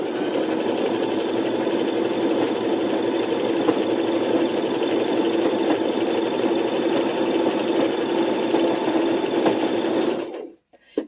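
A sewing machine runs steadily, stitching two pieces of fabric together in one long continuous hum that cuts off abruptly near the end.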